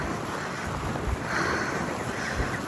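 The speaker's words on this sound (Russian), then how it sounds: "потому что открытая площадь, и очень заметает, и ветер сильный" Strong wind sweeps across an open square by the Triumphal Arch in Moscow during a snowstorm, a continuous rushing roar that swells slightly midway, with no other sounds standing out.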